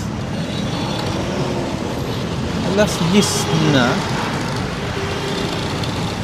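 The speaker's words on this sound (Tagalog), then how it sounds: "traffic ka pa din" Road traffic at night hums as a steady broadband roar close by, with brief louder passing swells midway and a person talking over it.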